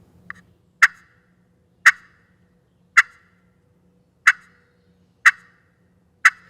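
Glass turkey call worked with a striker to make clucks: six sharp, isolated pops spaced about a second apart, clear and close with near silence between them.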